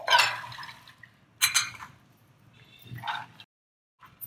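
Excess water drains off soaked whole green moong beans, heard as bursts of splashing and trickling liquid with short pauses between pours, fairly close and with no talk over it.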